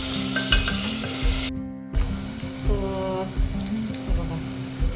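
Tomato puree blended with green chili and coriander poured into a hot pan and stirred, producing a bright sizzle with repeated scraping stir strokes, a brief gap, and faint background music.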